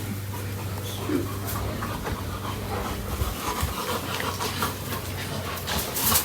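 Dogs pant rapidly and steadily before a bath in the late afternoon, close by, with a faint whimper and background hum underneath.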